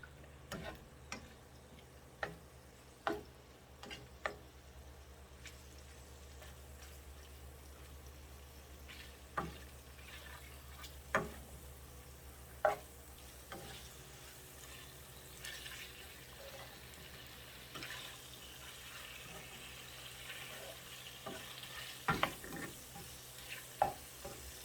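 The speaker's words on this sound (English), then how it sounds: "Let's put some oil, and we're gonna fry this." Tocino frying in oil, a quiet steady sizzle under occasional sharp clicks and taps of a utensil against the pan, close but faint overall.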